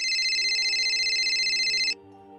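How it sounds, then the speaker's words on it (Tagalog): A mobile phone ringtone chimes in a steady, loud repeating pattern for about two seconds, then cuts off abruptly, leaving quiet background. "Narinig kong tumunog ang cellphone ko."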